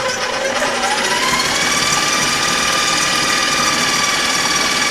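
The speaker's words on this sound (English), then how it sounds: "You're going to run your stand mixer at medium speed until the butter starts to become light and fluffy" A stand mixer runs at medium speed creaming butter and sugar, giving a loud, steady mechanical whir that holds the same pitch with no pauses throughout.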